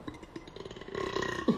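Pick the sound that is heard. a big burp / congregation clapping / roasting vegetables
a big burp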